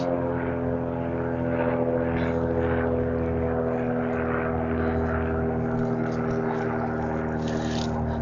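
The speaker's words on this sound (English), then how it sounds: "we have a plane going through." A propeller airplane passes overhead outdoors in a garden, its steady droning engine hum holding fairly loud and even throughout with no talking.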